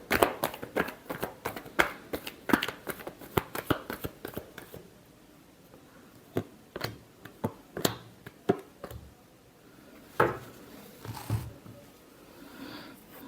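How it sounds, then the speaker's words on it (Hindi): Tarot cards are shuffled by hand in quick, crisp riffles and slaps, dense at first, then thinning into scattered taps and flicks, close and clear. "Last shuffle."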